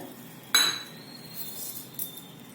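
Heavy-bottomed pan set down on a gas stove, one sharp metallic clank followed by a faint ringing tail and a softer knock moments later, close and alone.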